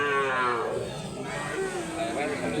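Cow lowing at a busy cattle market, a long drawn-out moo with rising and falling pitch that sounds close and loud over the crowd murmur around it.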